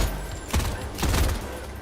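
Submachine gun in a video game firing two short bursts about half a second apart, close and moderately loud over a low background rumble.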